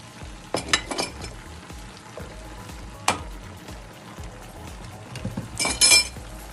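Chicken pieces fry with onion and garlic-ginger paste for a creamy chicken and tomato pasta, a steady close sizzle broken by sharp clinks of a utensil against the pan and louder bursts near the end.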